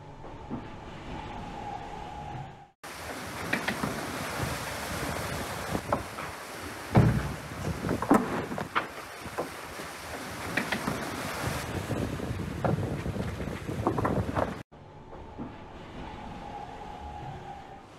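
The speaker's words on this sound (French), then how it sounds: "On a repris du vent, donc là ça déboule, c'est sympa." An Ultim racing sailboat surges fast through wind and waves, a loud continuous roar of rushing water and wind buffeting the microphone for about twelve seconds, with quieter hull and water sounds before and after.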